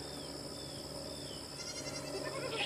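A Nigerian Dwarf goat, a bottle-raised newborn kid with its mother nearby, gives a faint bleat over steady background noise, with no one talking.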